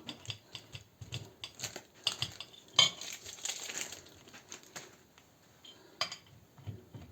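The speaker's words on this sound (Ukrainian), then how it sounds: "Ось такого сира ми натремо на отаку терку е, сирну, делікатна така в мене терка." Hard cheese rubbed on a fine grater for pizza, making a quick run of dry scraping strokes with clinking metal taps in a quiet kitchen, some strokes louder than others.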